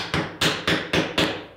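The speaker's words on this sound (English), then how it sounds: "now I'm just going to take a wood block, hammer," A hammer drives a wood block against a metal ruler accessory part clamped square in a vise, bending it: five sharp, evenly spaced knocks in quick succession, close and loud, with no talking.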